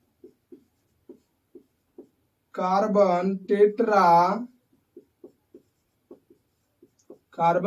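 Chalk tapping and scratching on a board while chemical names are written in a chemistry class, a series of short, soft, evenly spaced taps, broken by a stretch of a teacher talking.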